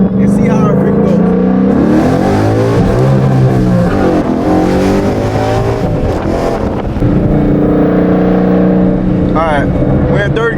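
A car on rear Toyo Proxes R888R tires accelerates hard on a test pull, its engine revving loudly and climbing in pitch through the gears, heard close from inside with talk over it.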